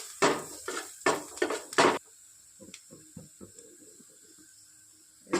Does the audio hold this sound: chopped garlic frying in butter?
yes